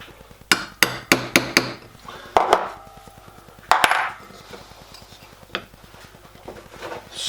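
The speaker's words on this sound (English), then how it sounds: "Push it in, fit it over that hole, tap it down with a bit of aluminium bar." Sharp metallic taps of an aluminium bar driving small 3/64 in (1.2 mm) rivets on a 5-inch-gauge model steam locomotive: a quick run of five close strikes, then a few scattered heavier knocks, near and clear with no talk.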